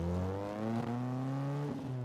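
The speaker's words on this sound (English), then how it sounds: "The exhaust sounds really good, and it's pretty loud" Lotus sports car exhaust roaring loud and close, a steady harmonic engine note rising and falling slightly as the car revs, with no voices.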